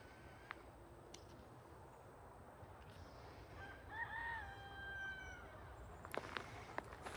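A single rooster crows faintly from a distance, the call rising and falling over a couple of seconds amid quiet outdoor ambience, with a few light clicks and footsteps near the end.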